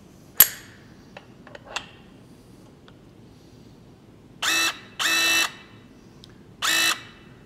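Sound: MegaPress tool pressing a 2 inch pipe fitting

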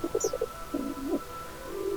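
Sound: pigeons cooing in Minecraft video game

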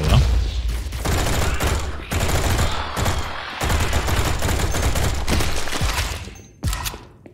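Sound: gunfire from a gun in the video game Project Warlock 2

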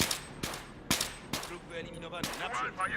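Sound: gunshots from a rifle in Battlefield 3 video game

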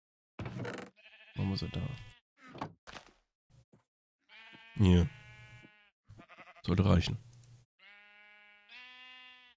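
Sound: sheep bleating in the video game Minecraft

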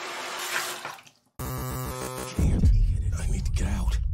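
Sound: toilet flushing in the video game Observer

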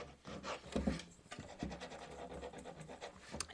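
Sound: sanding wood by hand

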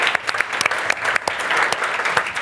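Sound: audience applause

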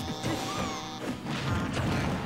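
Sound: up smash hit in Super Smash Bros. video game

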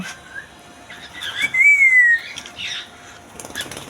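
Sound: cockatiel chicks squawking

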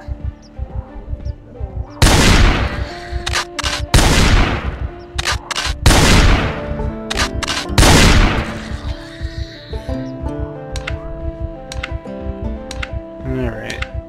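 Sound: gunfire in a video game

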